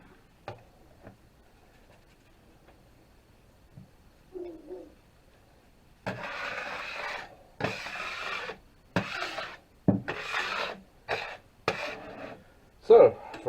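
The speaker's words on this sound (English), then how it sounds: "Just take that, scrape it right off of there." Material is scraped off a surface in repeated rough, raspy strokes, close and fairly loud, following quieter small taps and clicks at the start.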